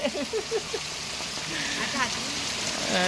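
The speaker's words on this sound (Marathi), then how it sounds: "असं मस्त पावसाला तुम्हाला दाखवतो" Steady hiss of rain falling nearby, with a voice speaking briefly at the start and intermittently under the downpour.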